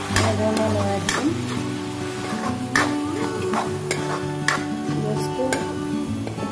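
Tomato masala being stirred in a pan, with repeated scraping strokes and clicks of a utensil over a low sizzle, close and fairly loud, with background tones underneath.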